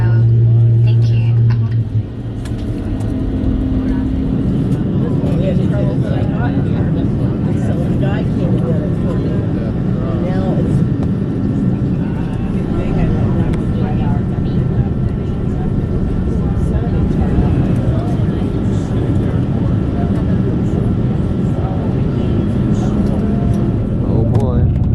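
Airplane cabin before takeoff with the door closed: a loud, continuous engine and ventilation rumble fills the space while a voice speaks over it throughout.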